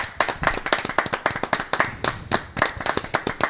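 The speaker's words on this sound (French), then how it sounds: "je vous demande d'applaudir si vous êtes d'accord" A small studio audience applauds arriving guests on a motorsport hill-climb show, sharp individual claps standing out in an uneven rhythm, fairly close and moderately loud, with no speech over them.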